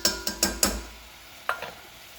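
A spoon stirs flour into melted butter in a pan, making a roux for a Mornay sauce: four quick, close scraping strokes in a row, a pause, then two more softer strokes over a faint sizzle.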